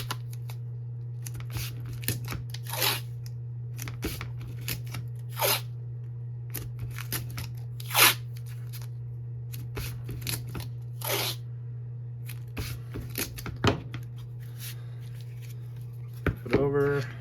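Tape pulled and pressed in layers onto a pistol holster during leather or kydex holster building: repeated sharp ripping and crinkling bursts, close and irregular, over a steady low hum.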